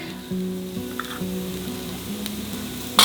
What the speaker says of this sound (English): I need to toss the aubergine.